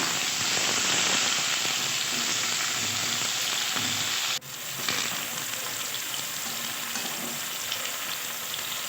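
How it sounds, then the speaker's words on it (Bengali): Flat beans, papaya and eggplant fry in hot oil with a loud continuous sizzle and hiss close by, briefly dipping midway before the frying resumes. "এবার ভেজে নিলাম সিম পেঁপে"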